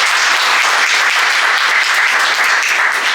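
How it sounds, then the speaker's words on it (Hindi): An indoor audience at a talk applauds, with dense, loud, sustained clapping that fills the whole stretch without a break. "एक बार उन लोग के लिए भी तालियां हो जाए।"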